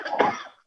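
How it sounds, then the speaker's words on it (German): A single short cough from someone in a lecture audience, fairly close and clear, followed by a brief silence. "da hustet jemand, hat jemand eine Erkältung"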